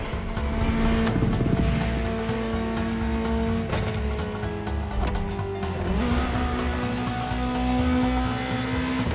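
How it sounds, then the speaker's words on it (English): A Ferrari in the racing game The Crew Motorfest revs loudly and steadily, its engine pitch dropping and climbing through shifts, with bursts of tire squeal and no talking. "I don't have much else to say, just enjoy the engine sound."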